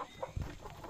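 Native chickens cluck softly nearby in a brief, low burst of farmyard sounds.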